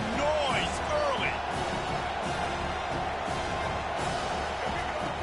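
Steady roar of a packed stadium crowd in the College Football 25 video game, loud and continuous with brief swells, while an announcer's commentary runs over it.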